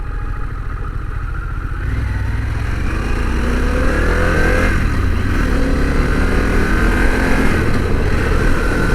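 A Harley-Davidson Pan America motorcycle rides up a road, its engine droning steadily and loudly throughout and swelling slightly after the first couple of seconds, with wind rush on top and no talking.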